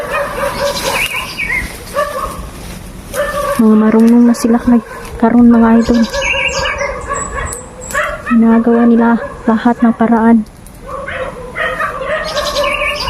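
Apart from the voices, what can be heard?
dogs barking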